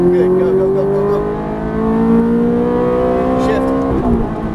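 Ferrari F430 engine pulling hard under throttle on a track, a loud, steady rising drone held close for several seconds with a brief dip near the end; a driving coach talks over it.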